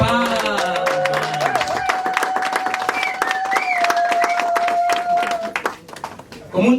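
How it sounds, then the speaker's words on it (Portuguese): An audience in Paris applauds at a speech by a deputy, dense clapping running under a sustained sung or held vocal tone before tapering off near the end. "Isso merecia uma forte salva de palmas."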